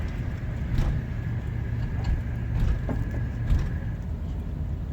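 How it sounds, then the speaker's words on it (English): A vehicle with a damaged rear wheel is slowly winched up onto a trailer, heard as a steady low mechanical rumble with faint clanks and a thin whine underneath. "He's just gonna slowly winch me up there."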